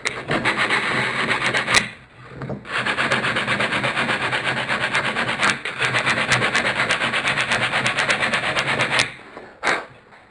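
Loud, steady rasping of sandpaper scrubbing back and forth across the wooden joint tails of a camera obscura kit, in long continuous strokes broken by a few brief pauses.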